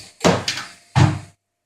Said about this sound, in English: Close inner door first, yes.